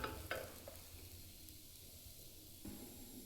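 Rice and dal roast in a pan on a medium flame, giving a faint, steady hiss with a few soft scrapes and taps from stirring near the start; very quiet and close, no voices.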